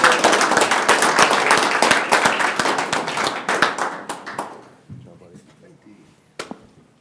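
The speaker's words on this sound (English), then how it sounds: "round of applause for Hasten" A roomful of people at a county board meeting applauds an honoree, brisk close clapping that thins and dies away, leaving a few lone claps and a stray voice.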